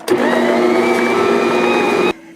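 An electric mixer whirs steadily as it beats powdered sugar into a homemade Easter candy mixture, a loud continuous motor hum with a constant pitch that runs for about two seconds and then cuts off abruptly.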